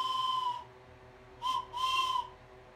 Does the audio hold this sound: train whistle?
yes